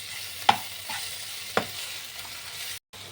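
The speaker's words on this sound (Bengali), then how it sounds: "এবার এটা মিক্স করে দিচ্ছি।" Two tablespoons of ginger-garlic paste fry in a pan for a tribal chicken curry, a constant sizzle broken by a few sharp scrapes of stirring and a brief drop to silence near the end, no talking.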